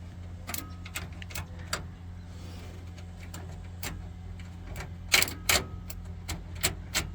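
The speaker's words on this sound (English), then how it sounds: "It's clicking, but it ain't turning." A 1955 Buick Roadmaster starter clicking without cranking, a scatter of faint irregular clicks and ticks, a couple of louder ones near the end, over a low background hum.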